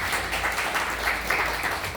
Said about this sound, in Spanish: doy un aplauso para el profesor Barría por esa actitud